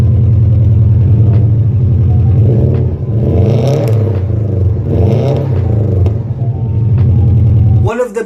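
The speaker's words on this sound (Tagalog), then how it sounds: "That deep Subaru boxer growl." A turbocharged boxer engine in a Subaru WRX STI with an upgraded exhaust rumbles in a deep, steady, loud growl that holds throughout, rising slightly in places, before cutting off abruptly near the end.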